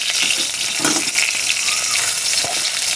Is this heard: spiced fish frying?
yes